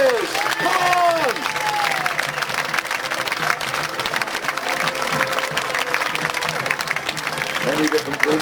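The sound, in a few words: crowd cheering for Wars of the Roses infantry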